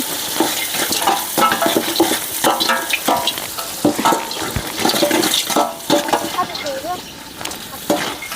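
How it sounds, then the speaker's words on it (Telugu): Sliced onions with green chillies frying in a pan, a continuous sizzle broken by frequent scraping stirs, with someone talking over it at intervals. "ఈ ఆనియన్స్ని ఫ్రై కోసం ఇవి బాగా వేగని"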